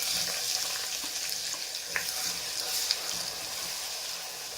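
Garlic sautéing in a pan for a Tamil-style fish curry gives a steady, faint broadband sizzle with light stirring scrapes and a couple of small pops, no voices.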